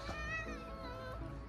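A cat named Mouka, left outside, gives a faint, drawn-out plaintive meow with a wavering pitch, quiet and alone.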